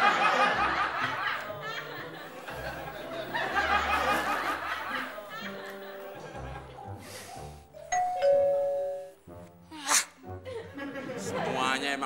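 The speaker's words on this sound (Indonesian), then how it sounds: "Pakai pura-pura mencet bel, mau jadi tamu." A doorbell sounds once partway through as a clear chime, set among lively talk and a quick laugh from people nearby.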